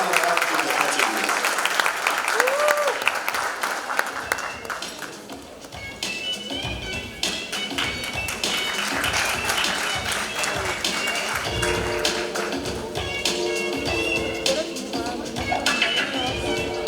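An audience at a youth business awards ceremony claps as runners-up receive certificates, continuous applause layered with music and background voices that carries on throughout.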